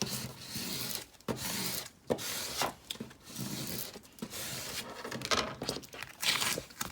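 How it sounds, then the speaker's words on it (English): Transfer tape being scraped down over stencil vinyl, giving repeated close, dry rubbing strokes with short pauses between passes and no talking. "So we're just gonna throw this down on our stencil. Scrape it down."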